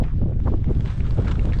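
Strong wind gusts across an exposed mountain ridge beside a freeride line at Red Bull Rampage, a mountain bike event. The wind roars and buffets the microphone loudly and steadily throughout, with no voices.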